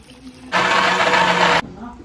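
Milk being poured at home, a steady splashing pour that starts sharply, runs for about a second and stops abruptly, with quiet room sound before and after.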